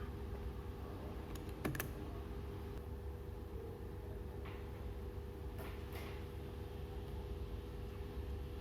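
Fingers tap out an installer code on an alarm panel keypad: a few light, scattered clicks over a steady low electrical hum and background rumble, with no talking.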